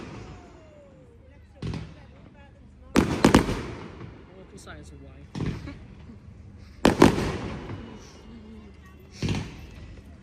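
Bonfire Night fireworks go off outdoors as a handful of loud, sharp bangs, some in quick double bursts with crackling tails, spaced a few seconds apart, while people talk and laugh between them.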